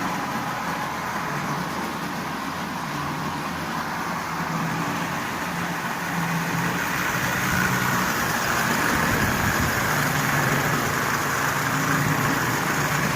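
A Marx 490 toy train locomotive with a double reduction motor and front and rear trucks runs steadily, giving an even, continuous mechanical whir and rumble that holds at a constant level throughout.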